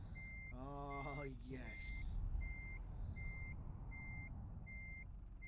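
Reversing beeps from a truck backing a trailer in Euro Truck Simulator 2, a steady run of evenly spaced electronic beeps over low engine rumble, with someone speaking briefly near the start.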